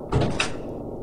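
A door creaking open in the Evil Nun horror game: a short, close wooden scrape and knock with a sharp click, then quiet room tone.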